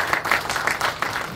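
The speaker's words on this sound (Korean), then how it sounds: "박수 부탁드리겠습니다" Applause from attendees at a Pocheon city council policy debate, a short burst of steady, moderately loud clapping from a roomful of people.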